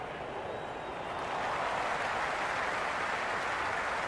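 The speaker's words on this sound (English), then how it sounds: "The spectators are absolutely buzzing right now." During a 2018 IPL cricket match between Chennai Super Kings and Mumbai Indians, a dense stadium roar of cheering spectators holds steady and swells slightly louder partway through.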